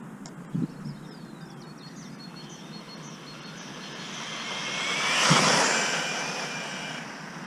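Electric RC truggy on a speed run, its motor whining and rising to a loud peak as it passes close by around the middle, then fading away, with a couple of short knocks near the start.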